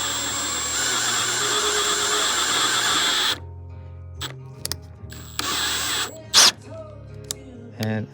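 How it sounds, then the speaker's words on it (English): A power drill whines steadily for a few seconds, drilling a hole in a square-body Chevy truck, then stops, followed by scattered clunks, a short second burst of drilling, and brief handling noises. "got the hole drilled"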